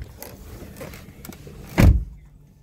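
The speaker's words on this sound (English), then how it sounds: "Got your power windows and your power locks." Electric window motor of a 2014 Toyota Corolla S, heard from inside the car as a soft whir that ends in a short, louder thump as the glass stops.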